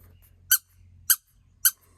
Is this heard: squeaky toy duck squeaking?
yes